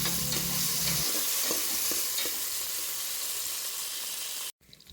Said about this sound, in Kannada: ಸ್ವಲ್ಪ ಪುದೀನ ಸ್ವಲ್ಪ ಕೊತ್ತಂಬರಿ ಸೊಪ್ಪು ಹಾಕಿ ಫ್ರೈ ಮಾಡ್ಕೊಳ್ಳಿ